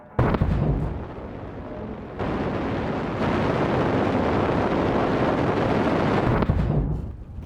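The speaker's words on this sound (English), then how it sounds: "Rocket launching. 5, 4, 3, 2, 1. Fire." Rocket engine roaring at launch in the Stationeers game during a Venus engine test: a continuous broadband rumble swells in stages and holds steady and loud for several seconds before cutting off.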